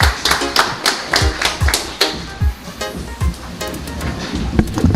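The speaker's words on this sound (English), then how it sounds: "Please give them a round of applause." Audience at an evening political meeting in Sangre Grande, Trinidad, giving a round of applause, with loud, close individual claps mixed into a continuous crowd clapping.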